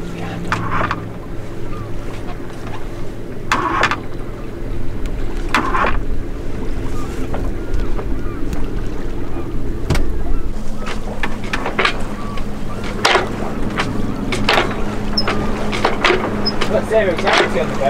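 A sailboat under spinnaker, sailing around Britain near Plymouth and Dartmouth, rushes through water with steady wind noise and hull wash, punctuated by repeated splashes and slaps of waves against the hull.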